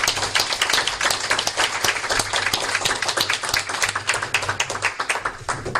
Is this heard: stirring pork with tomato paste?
no